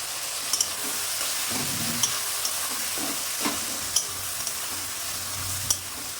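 Ginger, garlic and onion paste fries in a pan with a steady, close sizzle, broken by occasional soft scrapes of stirring.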